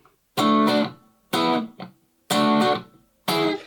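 An electric guitar plays distorted, sustained chord stabs from a solo with reverb and delay, in four loud bursts separated by short silences, each note ringing out with a harmonic-rich tone.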